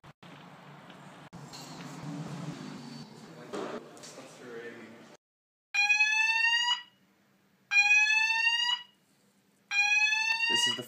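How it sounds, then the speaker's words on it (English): An intermittent fire alarm sounds inside a university building in three loud, harsh electronic bursts, each about a second long with short silent gaps, following a stretch of muffled footsteps and background movement. "This is the first time the fire alarm has been off this term."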